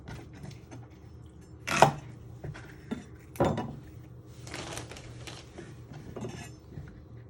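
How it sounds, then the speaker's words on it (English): Knife chopping the ends off celery for minestrone soup: two sharp cuts on a board, close and fairly loud, with softer kitchen clinks and handling noises around them. "Next step, we're going to prep the celery. You first want to chop your ends off."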